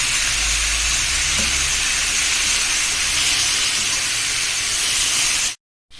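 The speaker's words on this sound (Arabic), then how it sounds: "شوحت الفلفل مع البصله شويه وهنزل عليهم بواحدتين طماطم مقطعين مكعبات بالشكل ده كده" Diced tomatoes hit a pan of sautéed peppers and onion, giving a loud, steady frying sizzle with broad hiss that stays even throughout and cuts off abruptly near the end.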